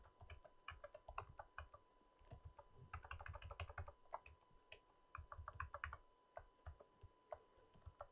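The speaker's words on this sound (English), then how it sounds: "This is a homemade keyboard shortcut." Close, quiet clicking of computer keyboard keys as a homemade keyboard shortcut is typed, coming in quick irregular bursts of taps separated by short pauses, with no voices.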